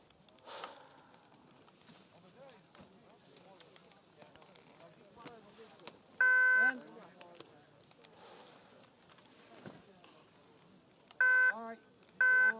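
At the start gate of a Paralympic Winter Games para alpine downhill race in Beijing, an electronic timing beep sounds once, then twice more in quick succession near the end, clear and loud over steady commentary and crowd noise.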